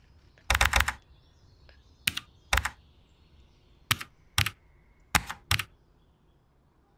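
Scattered single keyboard key clicks in a video game, sharp and close, in short bursts separated by silent gaps, with no talking.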